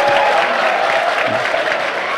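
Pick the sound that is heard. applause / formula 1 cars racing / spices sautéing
applause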